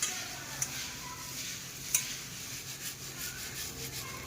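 Garlic sev mamra, crisp puffed rice and gram-flour noodles, tossed by hand with red chilli and spices, giving a soft continuous rustling and rubbing with a few faint clicks, quiet and close with no talking.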